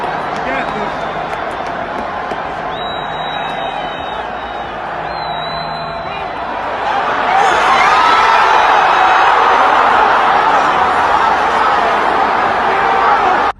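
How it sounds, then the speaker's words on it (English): An American football crowd roars as a continuous wash of screaming and cheering that swells louder about halfway through and stays loud to the end, with a thin whistle-like tone briefly audible early on. "In American football, the crowd screams like crazy"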